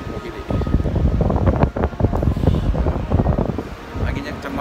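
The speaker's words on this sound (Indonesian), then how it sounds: "anginnya kencang banget" Strong wind on a ferry crossing to Lampung buffets the microphone in continuous loud gusts and rumble, with a faint hum from the ship underneath and no clear speech.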